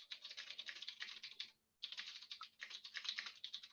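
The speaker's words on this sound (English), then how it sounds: "That's just me typing fast." Rapid typing on a computer keyboard, a dense stream of close, crisp key clicks with a brief pause partway through, heard alone without any talking.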